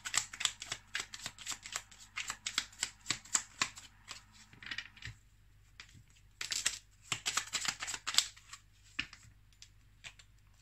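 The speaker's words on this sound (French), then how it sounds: "on va maintenant prendre quelques cartes du petit oracle des anges" Oracle angel cards being shuffled and drawn by hand, a fast run of crisp riffling card flicks, then a pause and a second burst of shuffling, close and clear with no talk.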